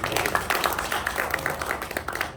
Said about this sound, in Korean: 수고해주신 김구현 변호사님께 박수 한번 다시 드립니다.